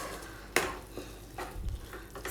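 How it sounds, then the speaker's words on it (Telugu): Fresh masala for ginger chicken frying in a pan, with soft scraping stirs and a few sharp utensil knocks against the metal over a low sizzle, fairly close and without talk. "సో మసాలా అంతా కూడా ఇలా డ్రై అయ్యేంత వరకు ఫ్రై చేసుకోవాలండి."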